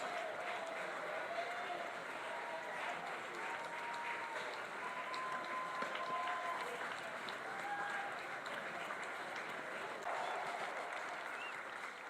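Steady applause from a crowd at a polo match, sustained and fairly distant, with a constant wash of clapping and faint cheering voices throughout.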